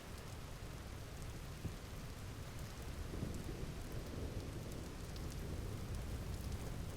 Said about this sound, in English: So, lots more storms coming in.